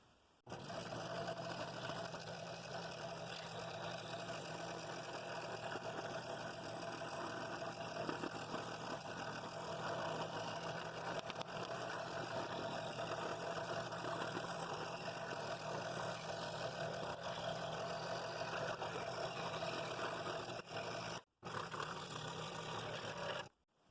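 A scroll saw cuts one long continuous spiral through wood, its steady buzzing motor drone running evenly for over twenty seconds with only a brief dropout near the end, no voices present.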